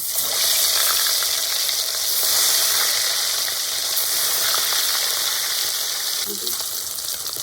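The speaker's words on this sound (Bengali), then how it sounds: "পরের মাছগুলোকেও আমি একইভাবে কড়াইতে ছেড়ে দেব।" Fish sizzling in hot oil in a kadai makes a dense, steady crackle up close, with a small clink near the end.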